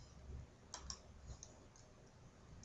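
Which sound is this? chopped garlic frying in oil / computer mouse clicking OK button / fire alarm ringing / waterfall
computer mouse clicking OK button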